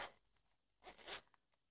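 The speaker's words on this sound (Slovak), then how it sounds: "Uzatvára sa na zips." Zipper on a beige-and-black Roncato leather wallet being pulled closed, two or three quick rasping strokes up close, followed by a couple of small faint clicks.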